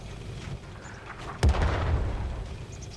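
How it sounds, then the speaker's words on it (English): A single heavy artillery shot in a video game lands as a sharp, loud boom followed by a rumbling low decay over a steady background of game ambience. "Now we go for artillery."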